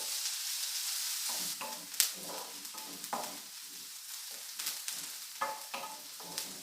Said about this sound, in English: add onion. I've taken 2 medium. Let this saute for a while.